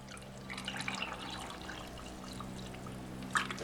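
Water is poured into lemon drink powder from a Croatian combat ration, a soft, steady trickle and splash of liquid that runs for a few seconds, close and fairly quiet, with a small clink near the end.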